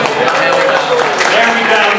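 Audience at an office commendation ceremony clapping together, a dense continuous wash of applause held at even loudness throughout, fairly close.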